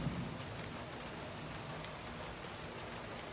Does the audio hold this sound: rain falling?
yes